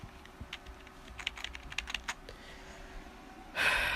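Fingers tap a computer keyboard in a quick irregular burst of clicks, close and fairly quiet, followed by a sudden louder noise at the end, with no talk.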